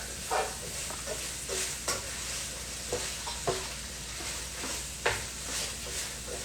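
A spatula stirs oil in a hot pan for stir-fried noodles, giving a steady close sizzle broken by irregular scraping strokes and soft clacks against the pan, with no voices.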